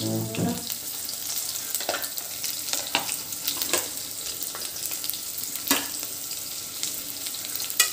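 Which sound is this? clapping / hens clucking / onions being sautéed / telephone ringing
onions being sautéed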